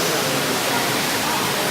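A small stream flows inside a tropical greenhouse of flowers and plants, a steady, even rush of running water heard close and alone.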